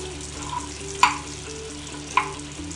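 Chicken pieces frying in a pan for chicken omanapola, a Malabar dish, are turned over, giving a soft steady sizzle broken by two sharp clinks of a utensil against the pan.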